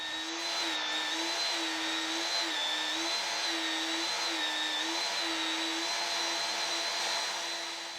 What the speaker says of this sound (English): And I'm doing all of that on the belt sander.